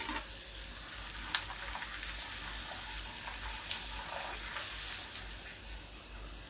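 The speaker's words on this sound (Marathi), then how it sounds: "तर आपण पुऱ्या काढून घेऊया खूप जास्त असं ब्राऊन नाही मी तळत" Puris deep-fry in hot oil, a steady bubbling sizzle with occasional sharp crackles and light clinks from a utensil, close and moderately quiet.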